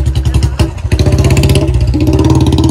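A Royal Enfield Bullet motorcycle being ridden near Film City, its single-cylinder engine thumping loud and close in a steady rapid beat, with a brief dip before the rhythm picks back up.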